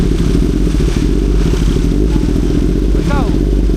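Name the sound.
motorcycle engine started and running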